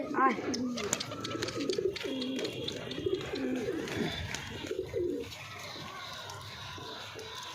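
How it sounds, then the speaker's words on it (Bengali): Pigeons feeding and cooing close by, with soft calls and wing rustles layered over steady background chatter and crowd noise for most of the clip. "আমার মাথায় এসে কবুতর খাবার খাচ্ছে"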